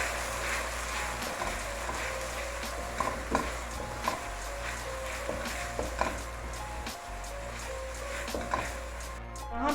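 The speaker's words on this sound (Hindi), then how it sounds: "2 मिनट के लिए इसे देसी घी में अच्छी तरह मैं फ्राई कर लूँगी" Sago pearls frying in desi ghee in a pan, a soft, steady sizzle broken by frequent scraping clicks of a spoon stirring them, close and continuous with no talk.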